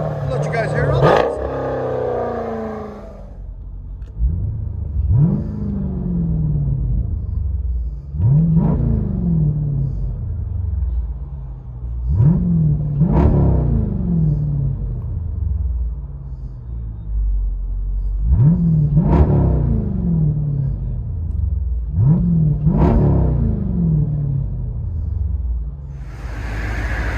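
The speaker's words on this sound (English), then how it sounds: "Jeep Grand Cherokee with a GT House full exhaust system." Jeep Grand Cherokee SRT with a 6.4L HEMI V8 and GT House full exhaust with 5-inch black tips, revved repeatedly in a series of about seven sharp blips that fall back to a deep rumbling idle, close and loud.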